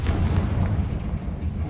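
Confringo blasting-spell explosion in Hogwarts Legacy, a loud, deep, rumbling boom that fills the short moment with heavy low-end blast noise.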